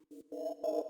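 An Arturia Pigments synthesizer sample set to AM ring mode, its volume modulated by an LFO, plays as three short ringing, metallic tonal bursts that grow louder with each pulse.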